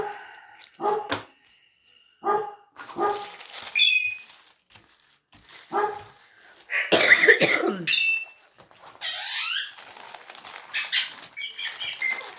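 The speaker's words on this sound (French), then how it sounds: "Ils vont pas aboyer comme ça toute l'après-midi." Several dogs barking outdoors in repeated bursts, some sharp and close, others more distant, with yelps and howl-like calls overlapping through a busy stretch.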